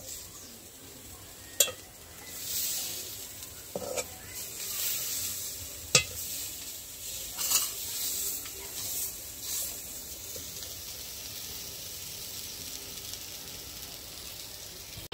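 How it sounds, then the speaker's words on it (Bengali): Garlic fries in hot oil in a pan with a soft continuous sizzle, broken by a few sharp scraping knocks of stirring against the pan. "তো রসুনটা ভাজা হচ্ছে।"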